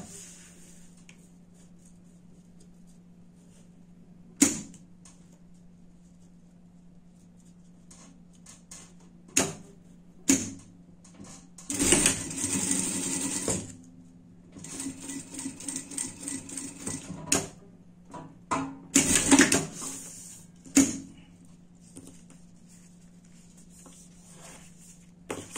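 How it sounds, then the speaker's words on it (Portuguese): A sewing machine stitches a zipper onto a fabric pet bed, short fast bursts of needle chatter separated by pauses and clicks, close and clear with no talk. "Vou pregar o zíper aqui."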